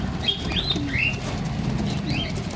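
Pigeons flap their wings in a soft fluttering rush, with a few high chirps overhead. The sound runs continuously over a low background rumble.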